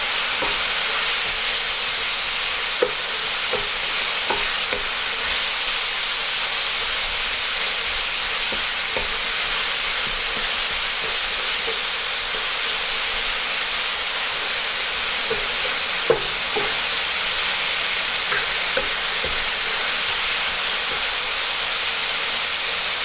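Greens and other vegetables stir-frying over high heat with soy sauce for vegetable noodles, giving a steady, loud sizzling hiss with a few faint clinks throughout.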